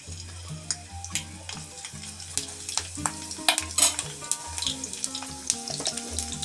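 Green chillies sizzling and frying in white oil in a wok (kadai) while making masala for Mughlai paratha, with steady close frying crackle and intermittent stirring scrapes and clinks throughout.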